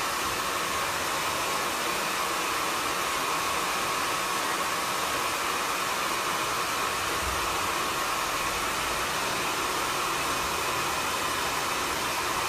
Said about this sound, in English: I'm going to use a really strong wrap drying technique, and I'm really focused on the root of the hair.